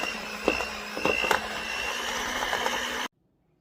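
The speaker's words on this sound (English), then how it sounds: "I've just got my hand mixer here" An electric hand mixer whirs steadily through a peanut butter egg filling, its motor holding an even pitch with scraping knocks against the bowl, then cutting off abruptly near the end.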